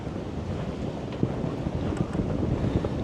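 Strengthening wind, gusting around 16 to 20 knots, buffets a sailboat under way in rough seas, a steady close rush of gusty wind noise over water with brief knocks and no talking.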